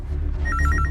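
A telephone rings in a tense crime-drama scene, a short burst of rapid electronic warbling pulses starting midway, fairly clear over a low background hum.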